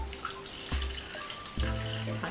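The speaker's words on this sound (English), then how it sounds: "So I'm going to pour into my bowl, I'm going to pour some water." Water is poured into a bowl in a church kids' session, a faint splashing trickle with a couple of soft bumps, no voices.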